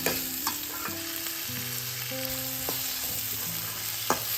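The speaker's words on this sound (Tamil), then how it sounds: "இப்போ தக்காளி நல்லா வதங்கிடுச்சு." Tomatoes sizzle and fry in a pan as a spoon stirs them. A steady, close hiss of frying runs throughout with occasional scrapes and knocks from the stirring, and no voices.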